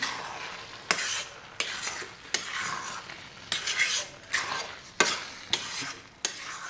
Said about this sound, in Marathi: छान असा आपला हलवा हा शिजतोय